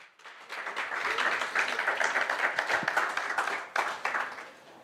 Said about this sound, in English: could we please give a round of applause to the University of Namibia Choir